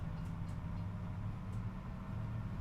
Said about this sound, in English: Second train coming through?